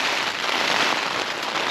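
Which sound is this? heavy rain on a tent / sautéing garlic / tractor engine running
heavy rain on a tent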